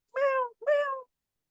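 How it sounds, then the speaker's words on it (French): Gilbert, a pet cat, gives two clear meows in quick succession, close and distinct against silence. "Son chat répond"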